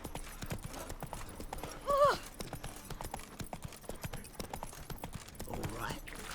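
Horse hooves clip-clop steadily while riding in The Witcher 3: Wild Hunt, a dense rhythmic patter of galloping under game music and ambience, with a brief whinny-like sound near the two-second mark.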